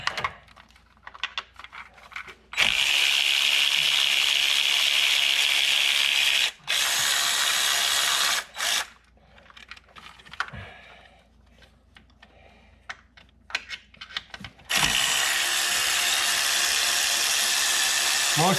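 A hand ratchet removes bolts from the engine of a 2014 Ford Explorer during water pump work, with long, loud, steady runs of rapid clicking separated by quieter fumbling and tool handling.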